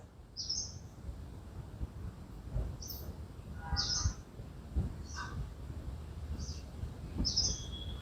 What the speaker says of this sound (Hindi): चिड़ियों के गान के साथ